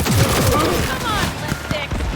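Rapid bursts of gunfire in the video game Cyberpunk 2077 fill the whole moment, loud and continuous, under excited shouting voices.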